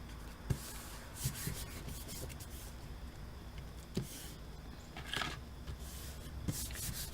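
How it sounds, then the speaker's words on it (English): Glued paper pieces being smoothed down by hand for a junk journal, a soft continuous rubbing hiss with a few light taps and scrapes, close and quiet with no talking. "I'm just going to use this to smooth out that glue."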